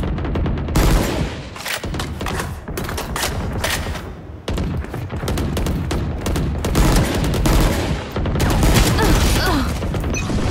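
Gunfire in the video game Valorant: rapid bursts of automatic shots crackle in repeated volleys over about ten seconds, close and loud, with brief pauses between strings of fire.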